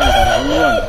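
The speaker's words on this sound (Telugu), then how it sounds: "ఇటు చూసినా కోళ్ళే" A fighting rooster at Kalidindi near Bhimavaram crows loudly and close, one sustained cock-a-doodle-doo with a rising then falling pitch, alone against faint farmyard noise.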